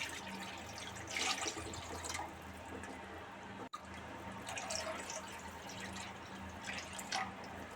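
Two glasses of water are poured for cooking semolina for Odisha kakara pitha, giving a continuous trickling, splashing stream with small dripping bursts and a brief break midway, fairly faint and close.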